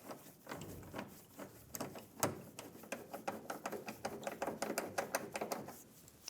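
Bolts being started into a leaf spring bracket on a 2007-2013 Chevrolet Silverado 1500, heard as a steady run of quick, close metallic ratcheting clicks through the whole stretch, with no talk.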